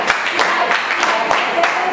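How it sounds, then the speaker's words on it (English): A classroom group claps briefly in a rhythmic pattern of a few sharp, close, loud claps. "Give a nice clap for everybody."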